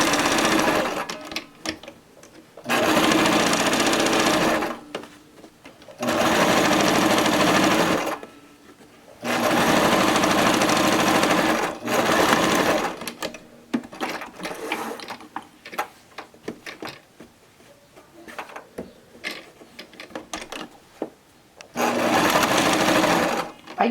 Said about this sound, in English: you're going to top stitch this edge, and then you're going to lift your needle and top stitch that edge